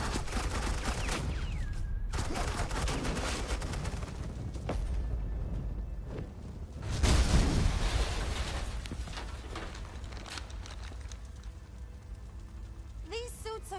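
Muffled bursts of suppressing gunfire rattle steadily under dense game noise and a talking voice, with a louder swell midway.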